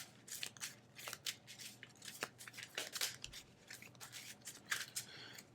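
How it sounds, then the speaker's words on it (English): Playing cards from the Legendary Marvel deck-building game are shuffled, making a faint, close run of rapid papery riffles and snaps with no voices. "shuffling"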